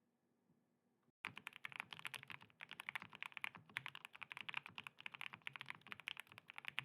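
Computer keyboard keys clatter in quick, dense bursts of typing, close and crisp, beginning after a brief near-silent pause and continuing without letup.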